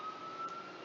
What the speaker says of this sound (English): as the ambulance goes by